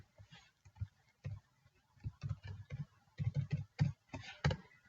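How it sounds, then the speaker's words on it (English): Keys clicking on a computer keyboard while typing in Google Docs, a series of close, crisp taps in quick irregular bursts with short pauses between, ending in the press of the enter key. "I'm going to hit the enter button"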